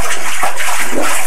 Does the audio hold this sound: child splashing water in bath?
yes